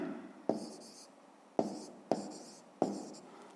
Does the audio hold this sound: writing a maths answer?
yes